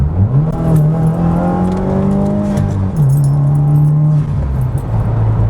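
A 2015 Subaru WRX engine revs and pulls through the gears from inside the car, its steady drone rising in pitch, dropping at a shift near the middle, then climbing again, loud and continuous.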